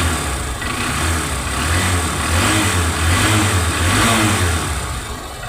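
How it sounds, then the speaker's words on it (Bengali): A Honda Tiger 150cc motorcycle in showroom-like condition runs close by with a steady, loud engine note that swells gently in a couple of smooth revs and eases back, with no talking over it. "হুন্ডা টিগারের যে সাউন্ডটা দেখেন একদম শোরুম কন্ডিশনের মতোই আছে সাউন্ড"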